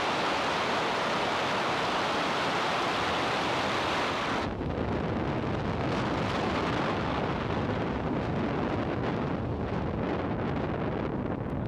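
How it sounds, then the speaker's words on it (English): A SpaceX Falcon 9 rocket ignites and lifts off from Vandenberg on a Starlink launch: a loud, continuous broadband roar fills the whole stretch, its high hiss dropping away partway through as the deep rumble carries on. "Ignition and liftoff Falcon 9."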